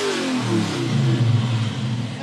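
A big 435-horsepower V8 car engine revs with a deep, rising roar, loud and close, alone with no talk over it.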